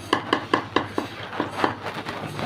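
An egg is beaten into pitha batter in a bowl, giving a run of quick, even clinks and taps of a utensil against the dish, close and clear, slowing into softer, less regular strokes.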